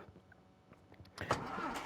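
A car engine cranks and catches in the Dairycraft farming video game, a brief starter whir followed by the engine firing up loudly near the end of the short moment.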